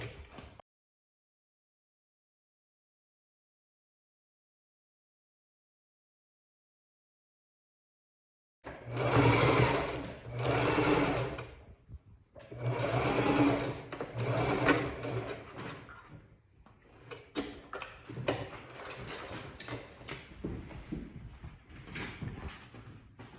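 A home sewing machine back stitching and then running around the edge of a panda tote bag, starting after a stretch of silence with steady mechanical whirring runs broken by short pauses, close and clear.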